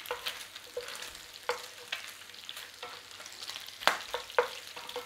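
Bacon frying in butter in a pan, a steady sizzle broken by sharp crackles and spits as it is stirred, close and fairly loud.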